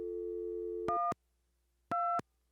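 A telephone ringback tone in a football manager video game, made of two separate electronic beeping bursts with a gap between them. It plays alone over a steady low hum, with no talk.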